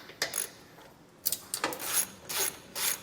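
Ratchet with a 15mm socket loosening the factory bumper beam nuts on a 2023 Volvo XC60, heard as several short, close metallic clicking bursts with brief pauses between them.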